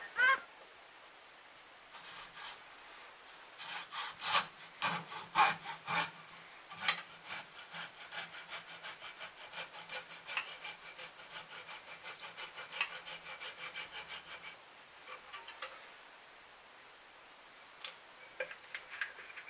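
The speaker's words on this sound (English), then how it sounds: "Take your hacksaw." Hand hacksaw cutting through a workpiece, a quiet series of rhythmic rasping strokes with short pauses between bursts, ending in a few isolated scrapes.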